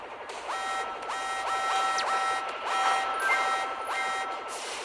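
Repeated electronic beeping in a video game, quick bursts of bright tonal bips recurring in a steady rhythm over a busy game soundtrack, fairly faint, with no speech.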